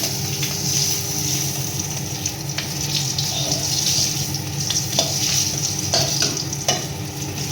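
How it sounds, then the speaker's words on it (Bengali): Nigella seeds and green chilli sizzle in hot oil as a continuous crackling hiss, dotted with sharp spits and pops and the scrape of stirring in the pan. "কালো জিরে আর কাঁচা লঙ্কা ফোড়ন দিয়ে দেবো"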